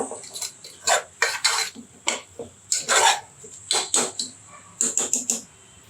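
Onion mixture for green gram gravy sautéed in a pan, with bursts of spoon clinks and scrapes against the metal in uneven strokes, close and fairly loud, no voices.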